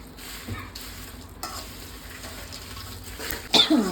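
Dry red chillies frying in a pan for Telangana-style garlic chilli powder, giving a soft, steady sizzle with light stirring scrapes and a louder clatter near the end.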